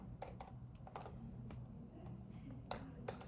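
Sparse keystrokes on a computer keyboard, a few short clicks spread out irregularly over steady low background hum, moderately faint.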